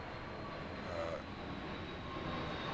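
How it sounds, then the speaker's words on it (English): A jet aircraft passing overhead outdoors makes a steady, loud broadband roar that fills the whole stretch without letup, with no talk over it. "Let's let the jet pass here. It's kind of noisy."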